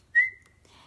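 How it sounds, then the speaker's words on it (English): A single short whistle from a person recovering after surgery, used in place of speech to get attention, one clear sustained tone lasting about half a second, close and fairly loud in a quiet room. "whistling was something that could be done"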